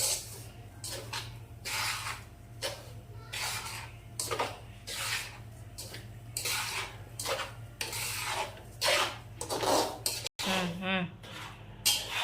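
Semolina and grated coconut are stirred and roasted in a pan on low heat, giving repeated scraping strokes of a spoon against the metal in a steady rhythm, close and fairly quiet.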